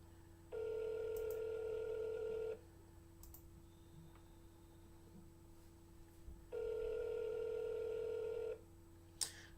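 A telephone keypad gives two long bursts of dialing tones, each lasting about two seconds with a quiet gap between them, with faint clicks as buttons are pressed.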